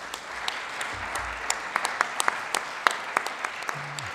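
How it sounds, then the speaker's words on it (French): Audience applause at a French hospital and health-rights session, a room of people clapping steadily with distinct close claps over a softer wash of hands, with no speech. "je vous propose quand même déjà, par anticipation, d'applaudir les trois rapporteurs, plus la présidente de la section"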